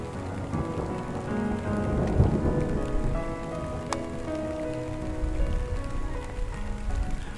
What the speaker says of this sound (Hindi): बाहर तूफान धीरे धीरे बढ़ रहा था।